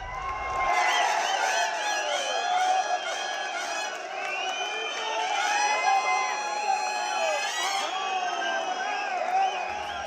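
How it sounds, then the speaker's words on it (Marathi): Farmers gathered at the Yashwantrao Chavan Centre in Mumbai raise a continuous, loud crowd cheer of overlapping shouts and whoops that holds steady throughout. "मुंबईतल्या यशवंतराव चव्हाण सेंटरमध्ये शेतकऱ्यांनी केलेला हा जल्लोष."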